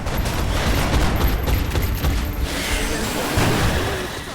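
Squad firing on an enemy in XCOM: Enemy Within, a dense, loud burst of overlapping gunshots and booms that fills the stretch and tails off, with no talking over it.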